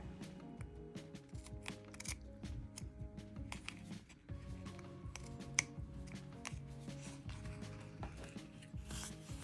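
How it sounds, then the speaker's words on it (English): Steady quiet snipping and rubbing as thin fringe pieces are hand-cut from the white edge of a miniature dollhouse rug, a continuous run of small close-up cuts and rustles with no talking. "To create the fringe, all I'm doing is cutting up really thin pieces of the white edge."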